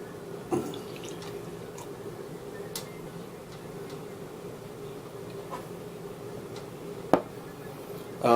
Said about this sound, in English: We'll pour it into a glass.